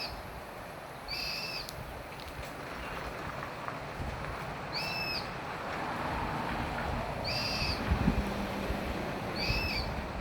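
Black cockatoos call nearby, giving four separate drawn-out, wailing cries spaced a few seconds apart over a soft outdoor wash of wind and rustling.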